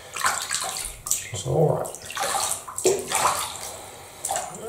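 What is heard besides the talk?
bathtub water while bathing a British Shorthair cat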